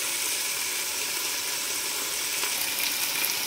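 Prawns and chili powder sizzle steadily in a hot pan for a raw prawn and cashew curry, a loud, even, close hiss that stays constant throughout with no voices.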